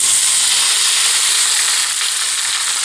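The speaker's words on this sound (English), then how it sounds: "you can hear that nice sizzle" Steady, loud sizzling of chicken frying in a hot pan, a dense continuous hiss and crackle with no voices.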